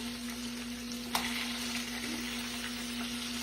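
Green tomatoes frying in a pan, a steady, close sizzle with crackling oil throughout, one brief sharp clatter near the start, and a low electrical hum underneath.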